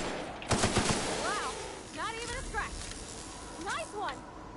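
Rapid-fire gun shooting at robots in the video game The Outer Worlds 2, a quick burst of sharp shots near the start, then warbling robotic and electronic tones under ongoing game noise.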